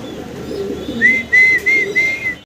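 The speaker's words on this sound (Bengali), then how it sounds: "বাগা গ্রিজেল রেসার কবুতর অসাধারণ সুন্দর একটা জোড়া" Bagha grizzle racer pigeons make a soft close call, a low murmuring coo beneath a few brief thin whistled notes, over about two seconds.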